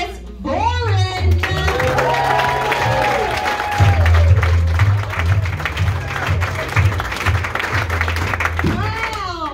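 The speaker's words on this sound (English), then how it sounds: "Put it together for Phyllis Boren." A comedy club crowd in Gilbert, Arizona claps and cheers loudly and steadily for a comedian being introduced, with whoops and voices mixed into the sustained applause.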